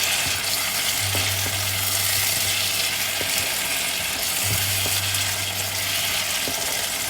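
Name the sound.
curry powder and curry leaves sautéing in a pan for fish curry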